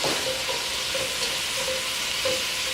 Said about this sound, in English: So our veggies are just going to saute for a couple of minutes.